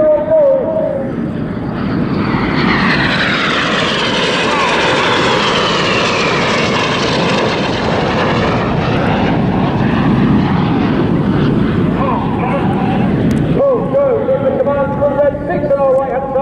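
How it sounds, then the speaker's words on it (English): Red Arrows jets roaring past at an airshow while performing aileron rolls, a loud broad engine rush that swells and fades over many seconds, with a commentator talking over it. "Each aircraft will conduct a 360-degree aileron roll."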